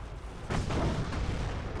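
Mortar rounds from a Company of Heroes battle land with a loud rumbling boom about midway, a heavy burst of explosive noise that lingers over a steady din of distant combat.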